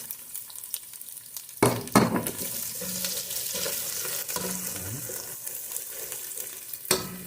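Minced garlic frying in hot oil and being stirred for a milkfish dish with chorizo de Bilbao, a steady crackling sizzle with loud scraping and clattering bursts near the start and end.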